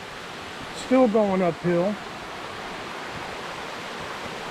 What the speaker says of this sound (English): So we just came across another little waterfall and swimming hole area.